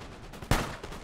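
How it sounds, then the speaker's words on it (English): Musket volley fire in the video game Napoleon: Total War, one sharp loud crack of a massed volley standing out over a constant background of battle noise, followed by a fainter report. "Old guard are returning fire."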